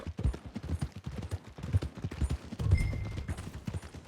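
Horse hooves clip-clop in a video game, with a brisk, uneven run of close knocking steps over about four seconds, heaviest near the end, with no talk.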